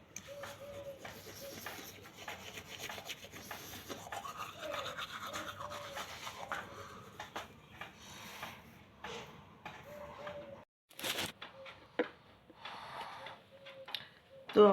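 Teeth being brushed with a toothbrush, close wet scrubbing strokes in uneven bursts mixed with breathy snorts and sniffs, with a brief pause and a louder scrape near the end.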